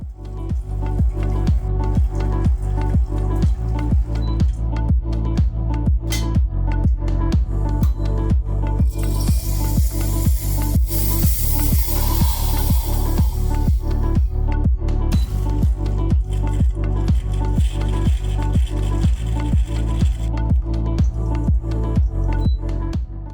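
A HiBrew H21 espresso machine in a descaling rinse, running its pump in a steady, loud rhythmic pulse while hot water and steam are dispensed, with hissing surges partway through.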